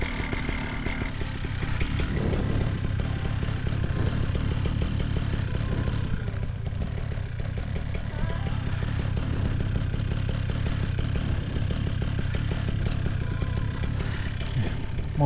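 A paramotor engine runs steadily after being started with a pull cord, a continuous close, loud mid-pitched drone with a rapid rattling pulse that holds level throughout.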